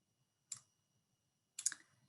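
Two sharp computer mouse clicks, spaced about a second apart, near and crisp against a quiet background while a save button is selected during a library catalogue search.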